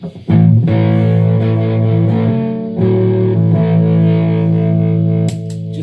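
An electric guitar through a high-gain overdrive pedal rings out sustained, gritty chords, loud and close, with a brief pause before a final change.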